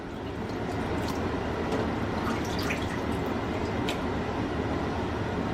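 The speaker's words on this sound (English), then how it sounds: "We're gonna fill this up with some tap water." Tap water running into a container in a kitchen, a steady rushing hiss and splash with a few small drips standing out, close and moderately loud.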